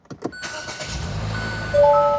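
A Hyundai Avante AD sedan's engine turns over with a push-button start: a brief cranking burst, then a steady idle hum settling in, with a chime tone near the end.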